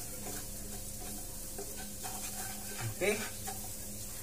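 Garlic and onion sautéing in a pan make a quiet, steady sizzle with a few stirring scrapes, while a voice speaks briefly.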